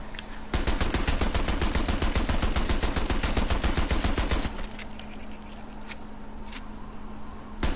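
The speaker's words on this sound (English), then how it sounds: "And I came to the M3 grease gun, one of the most long used weapons in the U.S. Army." Rapid automatic bursts from an M3 grease gun, the WWII-era US submachine gun, fired in the video game Sniper Elite 4. A loud, steady stream of close shots runs for about four seconds, then cuts off, leaving a hum and a few sharp metallic clicks.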